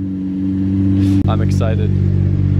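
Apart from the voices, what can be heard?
sports car engine revving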